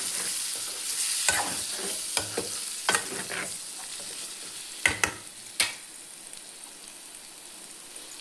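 Boiled mutton pieces fry and sizzle steadily in a pan for a simple mutton fry, with a spoon scraping and stirring in several short bursts throughout; no talking.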